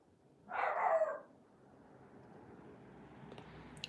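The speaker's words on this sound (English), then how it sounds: "That's the dog barking for some reason." Toby the dog lets out a single short bark indoors, moderately distant, followed by quiet room ambience with a faint clatter near the end.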